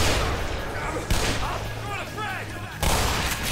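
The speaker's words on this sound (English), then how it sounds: "Those are guns being fired." Gunfire in the Black Mesa video game: loud, sharp bursts of shots near the start and at the end, with a low steady hum and game noise in between, and no talk over it.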